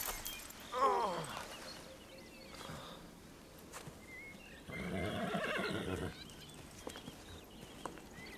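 Horses neighing and whinnying, with a clear whinny early on and a longer one midway, plus scattered hoof clip-clops and rustling in a rural farm setting, moderately near with no talk.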